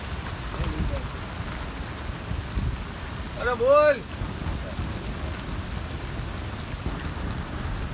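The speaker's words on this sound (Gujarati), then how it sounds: "તો ગાજવીજ સાથે એકદમ જોરશોરથી વરસાદ અને ચાલુ છે મેં." Heavy monsoon rain with thunder over farmland near Porbandar, a steady broadband hiss of downpour throughout, close and loud, broken by a brief shouted voice in the middle.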